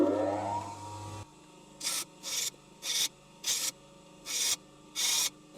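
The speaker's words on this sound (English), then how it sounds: "I'm going to have to grind something a little smaller" Six short bursts of grinding against a metal part for a camera stand, each roughly half a second long with brief pauses between them, close and fairly loud, preceded by a low hum.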